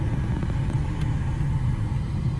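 A manual stick-shift car rolls along slowly, its engine a low, steady rumble heard from inside the cabin, close and constant with no speech.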